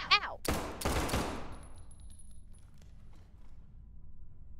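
A short burst of rapid gunfire in the video game SCP: 5K, with two or three sharp close shots early on that decay into a quiet game ambience.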